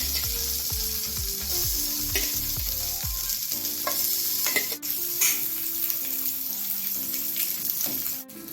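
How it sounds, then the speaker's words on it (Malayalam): Halved eggs shallow frying in oil on a tava, a bright steady sizzle with a quick series of spatula taps and scrapes early on, then quieter crackling with occasional sharp knocks. "അതിലേക്ക് നമ്മൾ ഈ രണ്ടായി മുറിച്ച മുട്ട ഒന്ന് ചെറുതായി ഷാലോ ഫ്രൈ ചെയ്ത് നമുക്കെടുക്കാം"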